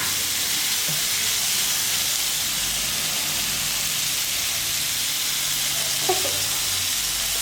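Prawns sizzle in hot oil in a pan, a steady loud frying hiss throughout with a faint clink or two near the end and no talking.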